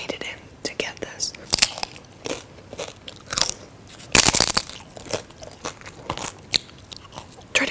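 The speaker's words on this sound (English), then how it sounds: "I'm going to eat this with chips" Loud, close crunching of crisp tortilla chips, bite after bite in irregular bursts, with quiet breathy sounds between.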